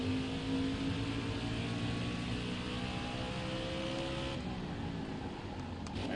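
Race car engine accelerating through the gears in NASCAR Heat 5 at Road America, a steady loud drone that rises in pitch and then drops sharply as the car shifts, with no talk.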